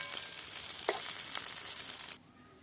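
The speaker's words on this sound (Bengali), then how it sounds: "লাল লাল করে ভেজে নিয়েছি" Helencha greens and bitter gourd leaf fritters deep-fry in hot oil with a steady, close sizzle and a few brief crackles, then the frying noise drops away abruptly near the end.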